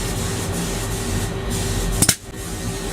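Compressed air pressure-tests a rebuilt brake caliper from an Astra Bertone Edition 100 in a steady hiss, then gives a sharp short blast and release near the end, heard close up.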